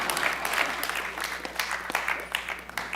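A comedy audience claps and cheers at a live show, dense close applause with scattered sharp claps running through the whole moment.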